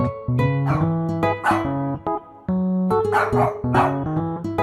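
A dog barks several times in short, sharp bursts, spaced irregularly across the stretch, over a steady melodic music bed.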